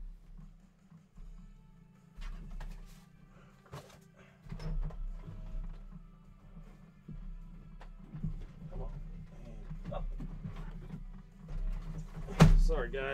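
A faulty printer's paper tray is shoved and jiggled, producing scattered clunks, knocks and sliding scrapes at close range, with a sharp louder bang near the end over a low background hum.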